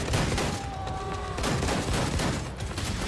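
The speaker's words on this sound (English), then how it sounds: "Something is shooting at us." Gunfire in the video game Wolfenstein 2: The New Colossus rattles in dense bursts aimed at the player, a loud, continuous fusillade of rapid shots with a brief tonal game sound in the middle.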